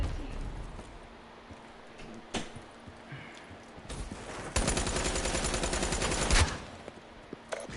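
Bursts of automatic gunfire in a shooter video game, with scattered shots early on and then a loud, sustained spray of rapid rounds lasting about two seconds.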